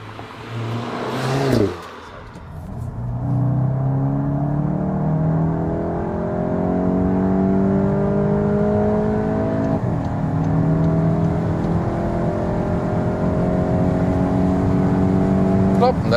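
An eighth-generation Volkswagen Golf GTI accelerates hard at high speed, its engine note rising steadily through long pulls with brief dips at gear changes, over road and wind roar inside the cabin.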